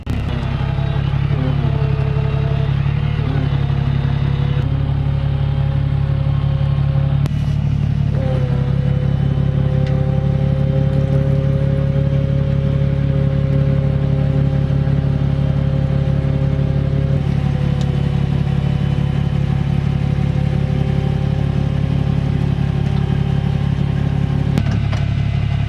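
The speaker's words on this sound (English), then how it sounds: "This is the first time I've used this little Warrior winch." A 10,000-pound Warrior winch on a wrecker runs while the truck's engine idles, making a steady, loud, continuous mechanical drone with a faint rattle and no letup.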